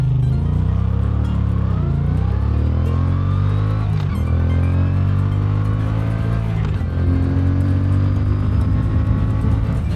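Moto Guzzi V7 Sport motorcycle pulling hard in sport mode, its engine note climbing through rising revs, each gear shift marked by a brief dip before the pitch sweeps up again, loud and close with steady wind noise.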